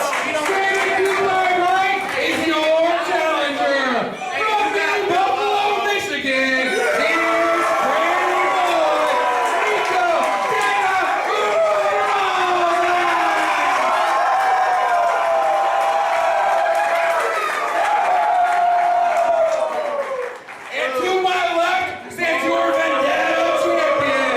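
A wrestling event crowd cheers, claps and whoops as a title match builds toward crowning a new GLWA champion, a continuous roar with a commentator talking over it and brief dips near the end.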